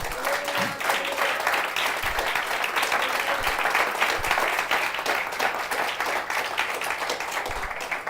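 A church congregation applauds together, a dense, steady wash of clapping that stays loud and unbroken for several seconds, with a few raised voices faintly mixed in.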